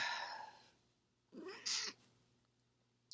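A house cat gives a short, soft meow or two, with a brief rising cry in an otherwise quiet room.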